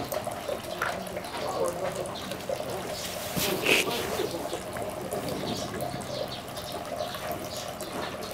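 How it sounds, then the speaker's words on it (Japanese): Water is scooped and poured from a wooden dipper at a shrine purification basin, with a steady close trickle and a brighter splash midway, while people talk faintly in the background. "右手でひしゃくを持っていっぱいの水を取って洗う"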